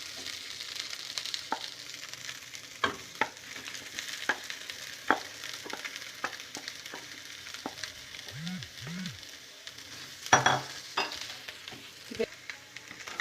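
Mashed potatoes are stirred into cooked chicken masala in a pan for Kerala-style chicken cheese balls, with repeated scraping spoon strokes over a soft, continuous sizzle, close up and without speech.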